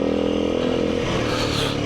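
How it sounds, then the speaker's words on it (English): A four-stroke dirt bike's engine brakes on a trail ride, a loud, steady mechanical drone with a rough rattling edge that holds throughout, close to the rider. "Hooray for engine braking."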